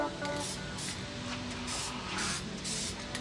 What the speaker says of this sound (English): if we put a coat of lacquer on them, they won't loosen up anymore